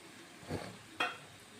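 Potatoes tipped into a frying pan while cooking mutton, two brief scraping stirs about half a second apart over a soft sizzle, close and quiet.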